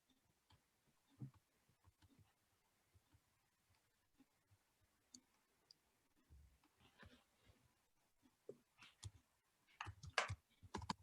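Scattered soft clicks and taps of keyboard typing, irregular and fairly quiet, with faint background murmur and a brief burst of louder clacking near the end.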